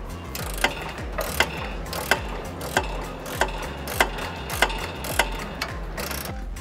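A hand ratchet clicks steadily while bolting up the exhaust up pipe on a Subaru BRZ/Toyota GR86, with evenly spaced pawl clicks and a sharper snap at each stroke, loud and close.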